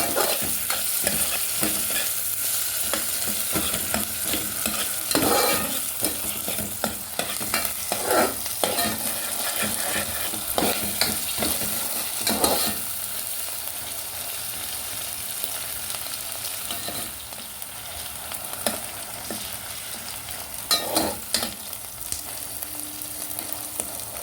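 Garlic sautés in oil in a pan for a tomato pasta sauce, giving a continuous close sizzle broken by frequent scraping strokes of a stirring utensil throughout.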